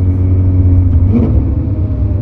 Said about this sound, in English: we are in the 430 Scuderia with a very cold engine